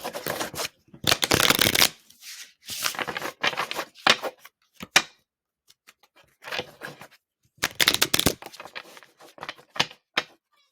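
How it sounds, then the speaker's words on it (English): Occult Tarot cards are shuffled by hand in quick riffling bursts, with crisp papery flutters and taps broken by short silent gaps, close up and with no talking. "Let's pull out a card from the Occult Tarot."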